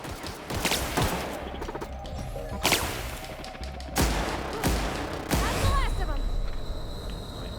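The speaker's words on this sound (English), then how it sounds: "That plasma gun did do a pretty good job, didn't it?" Plasma gun firing in the video game The Outer Worlds: several loud, sharp blasts spaced a second or so apart, with crashing impacts and a rising whine between them, close and dominant.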